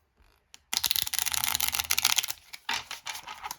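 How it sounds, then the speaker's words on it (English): Someone shuffles a deck of game cards up close in two quick riffling bursts, a dense crisp flutter with a short pause between them. "I'm going to shuffle the deck of cards real quick."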